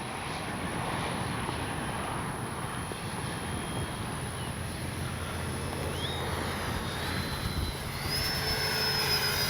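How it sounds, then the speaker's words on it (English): An FMS 70mm Yak 130 V2 radio-controlled jet flies overhead, its steady ducted-fan whine and broad rushing roar holding constant throughout, with a thin rising whistle appearing toward the end as it banks. "Beautiful flying jet."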